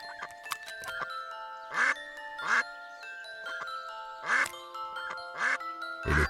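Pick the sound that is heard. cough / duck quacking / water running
duck quacking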